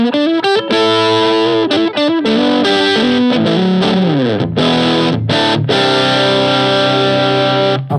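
An electric guitar plays through a TC Electronic Mojo Mojo overdrive pedal with the treble turned up, giving loud, continuous distorted chords and riffs with bright, gritty upper tones and short choppy breaks.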